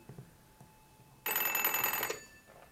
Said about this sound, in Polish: Dzwoni telefon, otwieramy.